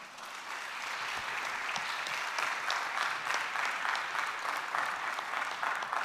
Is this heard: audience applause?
yes